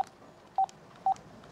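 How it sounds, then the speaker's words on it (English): Touch-tone telephone dialing: short, evenly spaced beeps of a keypad sound one after another, faint and clean with no talking. "So the number I'm going to dial is"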